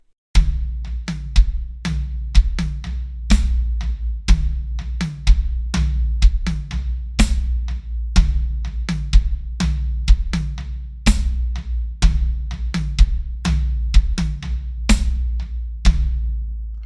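Both hands play a combined tom groove on a drum kit, a steady stream of tom strokes punctuated by regular bright accents over a low, sustained drum rumble, close and loud with no voices.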